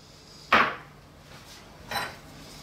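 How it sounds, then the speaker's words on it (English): Chicken pasta salad with cheddar and herbs being mixed in a bowl: two sharp clattering knocks of a utensil against the bowl, the first louder, the second about a second and a half later. "we need to give that a good mix"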